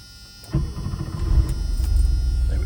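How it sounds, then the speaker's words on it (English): A 1984 Porsche 911 Carrera Cabriolet's air-cooled flat six cranks with a brief whir, then catches at about half a second and settles into a close, loud, rumbling idle. "There we go. She starts right up."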